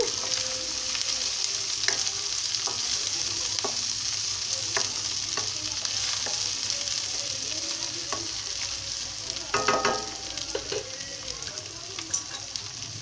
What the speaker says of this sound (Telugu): ఇది కూడా వేగాలి, పసుపు కూడా వేగాలండి, అన్ని ముక్కలకి బాగా పట్టాలి.